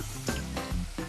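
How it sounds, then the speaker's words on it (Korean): Sweet potatoes fry in plenty of oil over high heat, a steady close sizzle with a few louder surges as the pieces are stirred, no voices. "고구마에 기름을 넉넉히 두르고 센 불에 튀기듯이 볶습니다"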